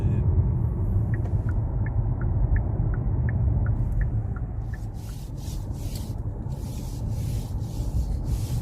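Steady low engine rumble and road noise inside a Hyundai Grandeur hybrid while driving, a smooth continuous drone with faint rubbing and a few soft higher clicks, no talking over it.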